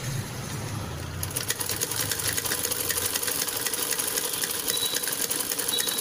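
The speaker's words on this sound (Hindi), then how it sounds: "इसको हम यहाँ स्टिच कर लेते हैं। तो हमने इसको बीच सेंटर से लेना है ऐसे और सीधा सिलाई करना है।" Sewing machine stitching a straight seam down the center of a kurti panel, a fast steady mechanical whirr and needle clatter, close and continuous without a break.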